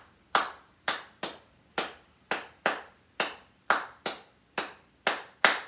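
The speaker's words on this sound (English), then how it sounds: "The basic tresillo pattern goes like this." Sharp hand claps tap out the basic tresillo rhythm, an uneven three-against-two grouping repeated several times, each clap crisp and close with a quick decay in a quiet room.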